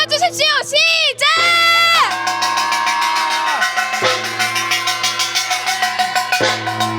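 Protesters outside a US military base shout together while a gong and kkwaenggwari small gongs are beaten, loud ringing metallic strikes and sustained tones over a roaring crowd, with rapid rhythmic clangs toward the end.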